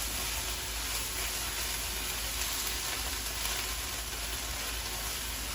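Curry sizzles steadily in a hot pan, a constant crackling hiss with faint scraping from stirring, close by and without talk.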